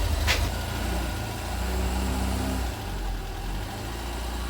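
A 1975 Vauxhall Viva HC engine running steadily at idle with a low, even rumble, close by, with a brief higher whine near the start and a slight drop in level partway through.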